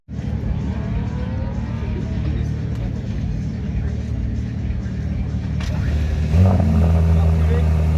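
A Ferrari F80 arrives at the Val de Vienne circuit during a 500-Ferrari charity gathering, its engine a loud, steady drone that swells toward the end amid crowd noise and nearby talk.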